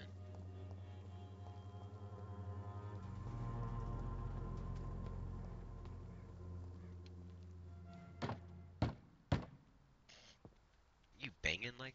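Someone bangs on a door in the video game Vampyr: a short burst of heavy thuds over low droning game music after a long stretch of music alone.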